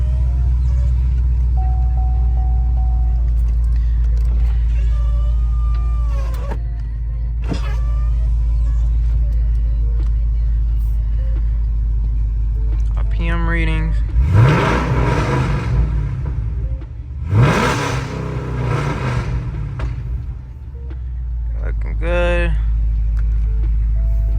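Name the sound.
Chevrolet Camaro SS engine starting and running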